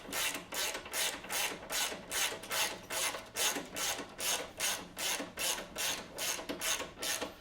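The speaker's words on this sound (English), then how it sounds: "Take your ratchet or your wrench. Start tightening your bolts." Ratchet tightening bolts while fitting a shock on a Harley motorcycle, a steady run of rapid rasping clicks in regular strokes, close up and moderately quiet, with no talking.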